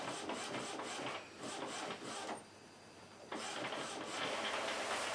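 An Epson WF-2010W inkjet printer, set up for sublimation ink, running a nozzle test: a loud, close mechanical whir and rattle of the print head moving back and forth, with a short quieter pause before it resumes.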